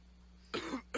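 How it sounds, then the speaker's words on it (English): Two short, harsh coughs from a man coughing up blood, in quick succession, close and fairly loud, after a moment of near silence. "Oh, Lord, he's coughing up blood."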